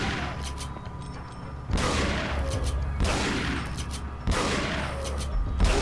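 Shotgun fire in Resident Evil 4, three heavy booming blasts spaced about a second and a half apart, each with a long ringing decay, loud and close.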